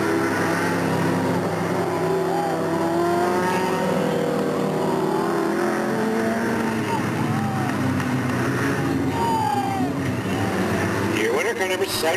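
Race cars on the final lap at Delta Speedway roar continuously around the oval, engines droning and whining in overlapping passes under a loud announcer's commentary.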